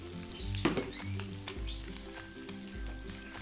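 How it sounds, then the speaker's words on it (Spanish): Onion, güero chile, jalapeño and bell pepper sizzle over browned meats in a discada, a dense close crackle with repeated scraping and stirring strokes and occasional metallic taps, no one speaking. "ahora voy a agregarle los vegetales. Aquí le voy a agregar la cebolla,"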